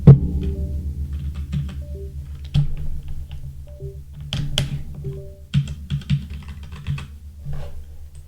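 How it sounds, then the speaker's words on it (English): Keys clatter on a computer keyboard in irregular bursts of typing, close and fairly loud, with a few heavier thunks from individual keystrokes and no talking. "Does my keyboard still work?"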